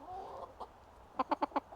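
A hen on an allotment gives a few soft low clucks, then a quick burst of four sharp, evenly spaced clucks, close and fairly quiet.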